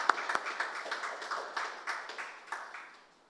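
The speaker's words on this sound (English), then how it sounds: "We need to really applaud that. Let us put our hands together for that." Audience applause at a stock listing ceremony for Productive Business Solutions: a small group claps in a loose, steady patter of distinct hand claps that gradually thins and fades out.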